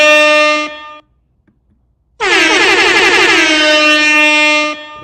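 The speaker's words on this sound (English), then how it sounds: "I gotta hit my air horn" A loud air horn blasts for about a second, falls silent, then sounds again in a long, blaring, wavering burst lasting several seconds.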